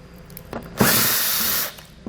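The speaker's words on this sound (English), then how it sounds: "we'll do this using a 7mm socket." A power tool with a 7mm socket removes fasteners from the front fascia of a 2020 Chevrolet Equinox. It gives one loud whirring burst of about a second, close by, with faint clicks before and after.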